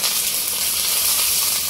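Mustard seeds sizzling in a little coconut oil for a sambar tempering, a steady, close crackling hiss that holds evenly throughout with no talk.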